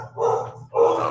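A dog gives two sharp barks close by, loud and evenly spaced, over a low steady hum.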